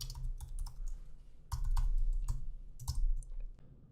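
Code being typed on a computer keyboard: fast, close clusters of key clacks in uneven bursts with brief pauses between them, and no talking.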